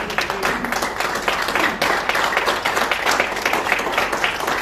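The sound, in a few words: church congregation applauding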